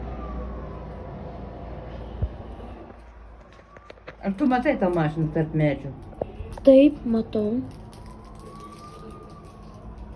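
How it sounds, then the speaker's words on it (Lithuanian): A police car siren wails faintly in the distance as it approaches, rising and falling at the start and end while people talk nearby. "aš girdžiu, policija atvažiuoja"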